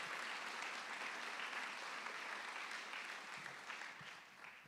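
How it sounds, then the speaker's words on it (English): An audience claps for a museum curator during an evening program at Peoria Riverfront Museum, sustained dense applause from a crowd at steady volume, heard from a distance and tapering slightly toward the end. "So please give her a round of applause."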